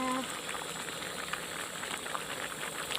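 Liquid boils in a pot with a soft, steady bubbling hiss and occasional small pops, fairly quiet and close; a brief voice fragment opens the moment.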